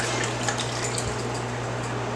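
Liquid is poured over beef stew simmering in a pot on a stovetop, giving a steady close pouring wash with a low hum beneath, no talking.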